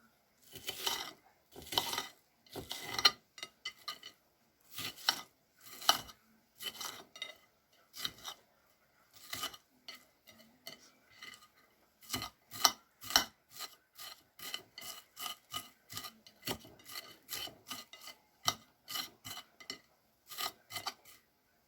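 A knife works through onions on a board for a beef-broccoli casserole, making rhythmic rasping strokes in bursts: a slow series of cuts, a pause, then a faster run of close, crisp slices.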